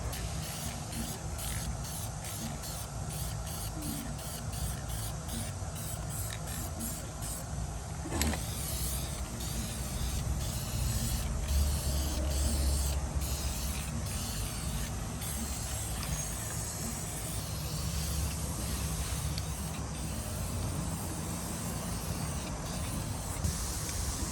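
Aerosol vinyl fabric dye coating sprayed onto worn carpet inside a 2013 Ford Fusion, a steady close hiss running continuously with short breaks and no talking.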